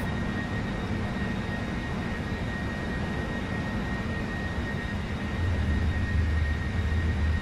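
A KLM Boeing 747-400 in the Prepar3d flight simulator throttles up to full takeoff power at Amsterdam, giving a steady, loud broadband jet-engine roar that swells slightly toward the end.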